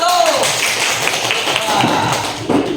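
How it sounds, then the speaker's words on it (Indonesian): A classroom applauds a student group with a dense, busy patter of many hands clapping at once, and voices are mixed in with it the whole time. "Tepuk tangan untuk kelompok 1."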